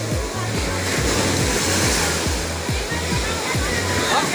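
Waves roll onto the shore at Puka Beach on Boracay, a loud steady wash of surf, with voices faintly underneath.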